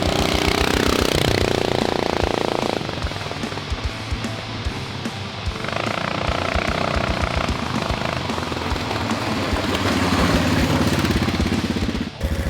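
A mini jeep with a 440cc Duromax engine driving at part throttle, its loud, steady engine drone continuous throughout, dipping slightly in the middle and then rising again.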